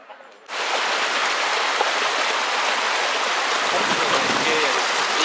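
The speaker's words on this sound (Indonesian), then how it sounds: "Lihat-lihat tuh aliran sungai kecil" A small stream flowing near a waterfall on a hiking trail at Bad Urach, a sudden onset of steady, dense rushing water that stays loud and close throughout, with no voices.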